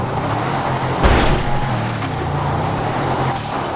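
The engine of a Toyota Fortuner 4x4 with big wheels drones steadily in GTA 5 as it tows a Mercedes-Benz out of a river with a log, loud and continuous, with a brief jolt or thump around the one-second mark.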